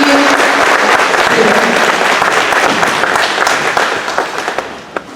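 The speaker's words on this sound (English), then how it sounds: "give a warm applause to the 18th Junior ROTC and our Gonzales High School Brass Ensemble" An audience at a US citizenship ceremony in a middle school applauds a Junior ROTC unit and a high school brass ensemble, loud sustained clapping from a crowd that thins into a few scattered claps.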